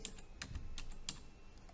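Keys clack on a computer keyboard while a form is typed into a Word template: a few quiet, close, irregular clicks with short pauses, no voices.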